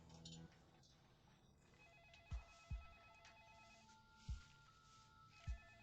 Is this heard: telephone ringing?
yes